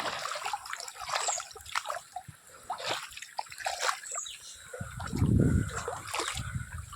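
Water from an electric pump runs along an irrigation channel in a crop field, trickling and splashing close by, with small surges in its flow and no talking.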